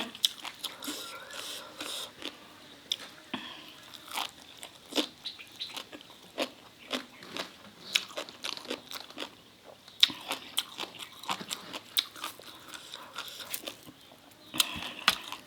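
Close, crunchy chewing and biting while eating Lao-style green papaya salad, with irregular crisp crunches continuing throughout and a few soft mouth sounds in between.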